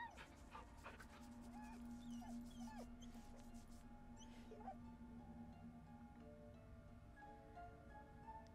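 A dog in Baldur's Gate 3 gives soft whimpers and panting while being petted, set against a steady in-game ambient hum and music, fairly close and moderate in level.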